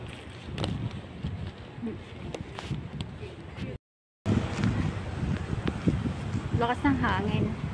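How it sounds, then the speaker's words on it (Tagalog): Strong wind in Taiwan buffeting the microphone with gusty rumbling, a voice talking over it, and a brief dropout midway. "Lakas ng hangin dito."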